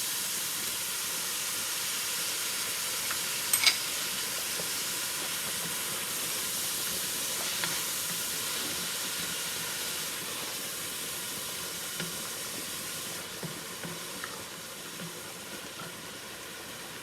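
Minced garlic sizzles in a pan for a spaghetti sauce, giving a steady hiss with a few brief clicks and pops throughout.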